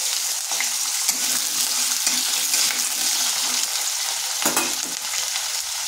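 Potato strips frying in hot oil in a wok, a steady loud sizzle crackling throughout with occasional stirring clinks.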